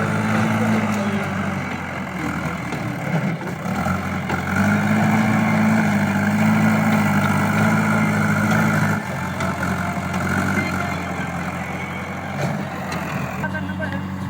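A tractor engine idles steadily on a village farm, a loud low rumble running through the whole stretch and swelling slightly midway, with people talking over it.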